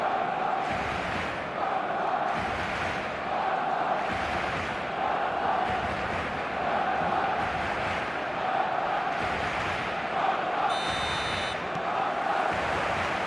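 A stadium crowd roars steadily in an eFootball match, a dense, sustained wash of chanting and cheering with pulsing swells and a brief buzzer-like tone near the end.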